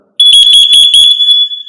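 FireAngel Wi-Safe 2 smoke alarm sounding its test tone indoors: a very loud, close, piercing high-pitched beep that pulses rapidly a few times, then holds steady before fading.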